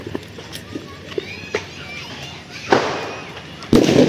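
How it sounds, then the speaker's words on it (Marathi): Firecrackers burst by hand out in a street, a few sharp bangs spread through the clip with the loudest near the end, amid busy outdoor noise and people talking. "आता हातामध्ये बॉम्ब फोडतायत"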